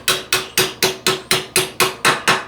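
Ten evenly spaced metallic hammer strikes drive a bolt into the rear hub of a Kubota B7100 tractor, each blow sharp and close with a short ringing decay, in a steady rhythm.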